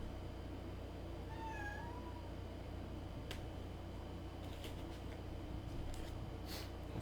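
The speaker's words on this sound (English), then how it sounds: "I think the cat's ready to eat." A cat meows once, a short rising and falling call at moderate distance over a steady room hum, followed by a few faint ticks and clicks, with no talk.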